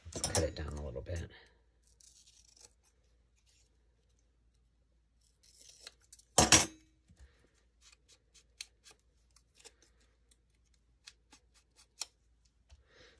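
Scissors trimming a papercraft piece for a pink December Daily craft project, with brief crisp snips and rustling near the start and a sharper cut midway, followed by faint scattered paper ticks and handling sounds, alone without talk.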